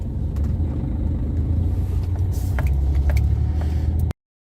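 A car driving home at night gives a steady low engine and road rumble with a few faint knocks, then cuts off abruptly near the end.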